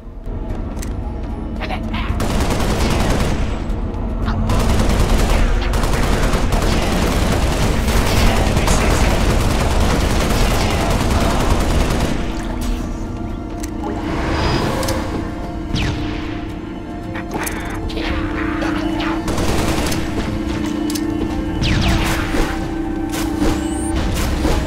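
Continuous game gunfire from a mounted turret in Halo: Spartan Assault, a steady dense barrage with booming impacts and mechanical clatter running loud throughout, with someone speaking over it at times.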